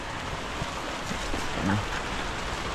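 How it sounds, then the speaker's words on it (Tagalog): Steady rain patters and hisses continuously on a roof, a dense even wash of sound with no breaks. "Umuulan na naman, liligo tayo sa ulan."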